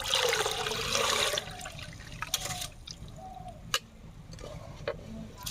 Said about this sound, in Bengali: এবার এই ছেকনিতে জল সমেত ঢেলে দেবো